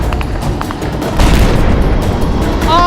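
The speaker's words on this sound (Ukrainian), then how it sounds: "Граната!" A grenade bursts during close combat at Avdiivka as a heavy, low, booming blast within an already loud, noisy battlefield scene.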